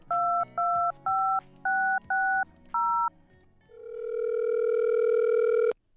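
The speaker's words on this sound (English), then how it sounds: "now we're going to call Megan, the museum director at Wisteria Hearst" A telephone dials out on a radio show: six short DTMF keypad tones beep in quick succession, then a steady ringback tone swells in and holds for about two seconds before cutting off, with no talk.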